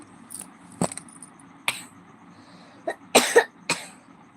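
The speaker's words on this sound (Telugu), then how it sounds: "దగ్గుడే" A person coughs several times with long quiet gaps in between. Each cough is short and fairly close, and the last ones come as a sharper burst near the end.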